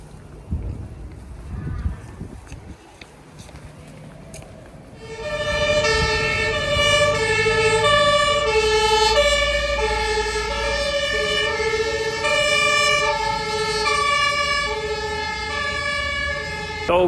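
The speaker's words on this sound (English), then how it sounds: "some ambulances and fire trucks passed me" Ambulance and fire truck sirens pass through a Dutch–German border town, starting after a quieter street stretch and then wailing loudly and steadily in layered tones for over ten seconds.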